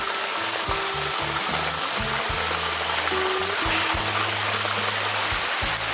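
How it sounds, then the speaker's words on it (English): Natural cold-spring waterfall in Oregon's Pacific Northwest woods, a steady broadband rush of falling water filling the whole scene, close and unbroken, with no voices. "This is natural spring water that you can drink straight from the waterfall."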